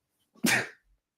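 A single sharp sneeze sounds close to the microphone in a quiet room, short and explosive, then stops.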